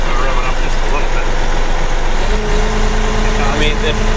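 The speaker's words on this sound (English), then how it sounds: "I'm revving up just a little bit." A John Deere track tractor's engine idles with a low, steady rumble and then revs up slightly, with the pitch and drone rising partway through, close by, while people talk over it.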